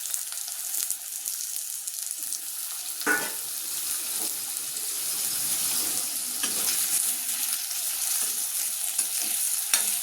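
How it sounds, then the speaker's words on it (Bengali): Potato pieces are stirred and lightly fried in a pan, giving a continuous close sizzle broken by scraping stir strokes, with no talking. "আলুটা হালকা ভাজা ভাজা করে দেবো"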